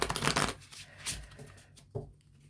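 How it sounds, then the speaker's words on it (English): A deck of cards is shuffled in a few quick riffling bursts, close by, with brief pauses between them. "Let's give them a couple of shuffles here."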